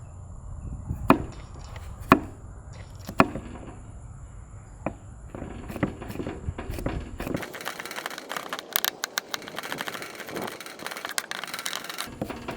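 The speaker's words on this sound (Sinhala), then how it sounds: "පොඩ්ඩක් චොප් කරලා හීනියට පොඩි කරගන්න" A knife chops garlic finely on a board for kottu, giving sharp, irregular knocks near the start that turn into a denser, noisier run of quick chopping strokes and scraping in the second half. Nobody speaks.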